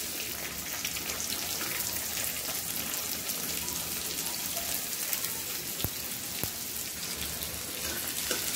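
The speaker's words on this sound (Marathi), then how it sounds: "आता तेल तापलेलं आहे, आपण 1 चमचा जिरं घालणार आहोत। कापलेली मिरची आणि कांदा" Cumin, chopped chilli and onion fry in hot oil with a dense, even hiss that holds loud and close throughout, broken by a couple of sharp pops, and no one speaks.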